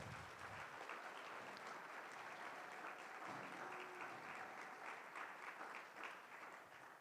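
Warm applause from a forum audience for two student moderators, steady clapping that runs the whole time, fairly distant and soft.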